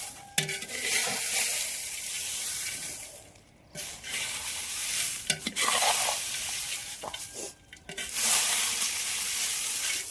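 Spicy masala being stirred in a pot on a wood-fired stove, with repeated scraping strokes and a steady sizzle of frying, close and fairly quiet, with brief pauses between bursts of stirring.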